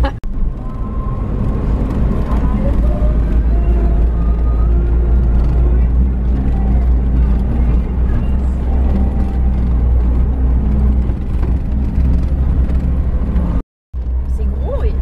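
A car being driven on a road, its steady engine hum and low road rumble filling the whole stretch, with people talking over it inside the vehicle.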